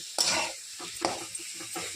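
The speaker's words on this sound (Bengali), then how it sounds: "মিশিয়ে একটু ভাজা ভাজা করে নেব।" Mashed taro is stirred and fried in a pan, with a few scraping strokes of the spoon over a soft, constant sizzle, close and fairly quiet.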